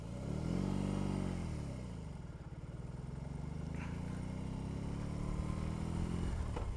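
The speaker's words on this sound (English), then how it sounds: "fire up these massive twin cylinders on the R18." A 2022 BMW R18 Bagger's big boxer twin engine fires up and settles into a deep, throbbing idle. A revving swell comes early, then a steady loping rumble close by.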